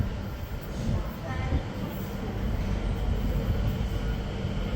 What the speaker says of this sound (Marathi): ते बघा समोरून एक ट्रेन येत आहे,